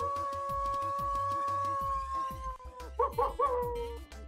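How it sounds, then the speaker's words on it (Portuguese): Wolf howl from Roblox Animal Simulator, a long sustained tonal howl over rhythmic game music, ending with a few short yips. "Fez barulho de lobo, vocês ouviram aí?"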